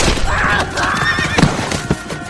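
Horses whinny loudly in a long, wavering neigh, followed by a few sharp hoof clops on hard ground, all close by with no talk.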